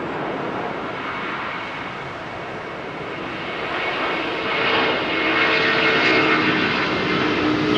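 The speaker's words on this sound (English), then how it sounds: "Watch this undercarriage at the back lift off," A Delta jet lifting off from Heathrow's runway 27R, its engines a continuous heavy roar that swells louder toward the end, heard alone with no voices.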